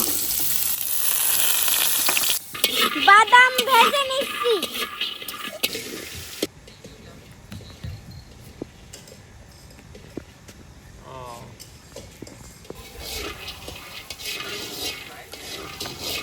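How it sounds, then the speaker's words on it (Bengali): Carrots frying in ghee in a home kitchen pan while cooking chicken biryani, a steady loud sizzle with stirring clatter early on that settles into a quieter frying hiss; a voice talks over it at times. "দিয়ে দিচ্ছি ঘি এবার গাজর ভেজে নেবো"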